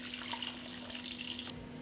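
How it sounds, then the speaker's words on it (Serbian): Water rushes steadily into a pot holding glass jars, a close, continuous pouring hiss that stops abruptly near the end, with no voices. "Sipat ću vodu do visine poklopca"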